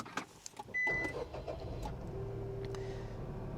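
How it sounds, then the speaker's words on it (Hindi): A Renault Kiger 3-cylinder turbo petrol engine starts from close by. A brief starter whir catches with a sudden roar, then settles into a steady idle. "Car starts."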